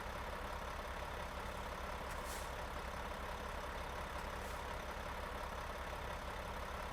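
A truck in American Truck Simulator rolls forward with the brake released, its engine giving a steady low rumbling drone that stays even and continuous throughout.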